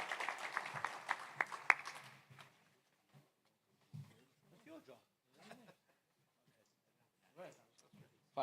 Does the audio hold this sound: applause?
yes